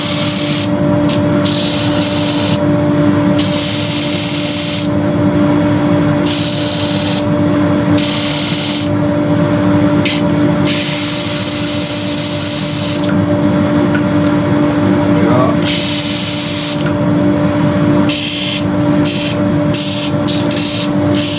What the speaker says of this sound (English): So I'm just going to quickly sand that. A bit of dust extraction going on first.